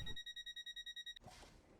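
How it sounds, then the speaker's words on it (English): A guard buzzer in the Train Sim World 2020 game sounds in a rapid pulsing beep pattern, about a dozen quick electronic pulses in a row, then cuts off into a low cab hum. "Guard buzzer, I suppose."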